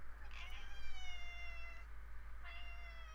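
A voice imitates a cat, giving two drawn-out meows with a short gap between them, close and clear over a steady low hum.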